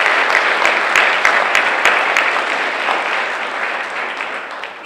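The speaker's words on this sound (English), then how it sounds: "Big applause for them." Audience at a senior awards ceremony claps loudly for two business teachers, a dense, close burst of applause with a few sharp individual claps that holds steady and eases slightly toward the end.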